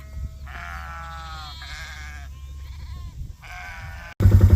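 A herd of sheep on a farm bleats in several long, wavering calls, close and fairly loud, over a steady low engine-like hum. A sudden loud thumping noise cuts in at the very end.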